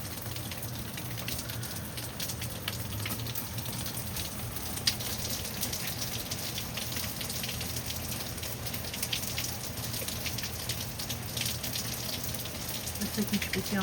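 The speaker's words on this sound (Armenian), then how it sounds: "Կրկին անձրև, անդադար անձրև" Heavy rain pours steadily at 11 p.m., a dense, continuous roar of drops drumming on surfaces with occasional louder splashes, unbroken from start to finish and carrying no talk.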